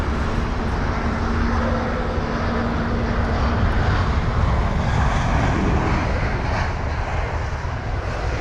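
An Airbus A319 arriving at London Heathrow after a flight from Glasgow. A loud, broad jet engine roar with low rumble holds steady throughout, close by and with no talk.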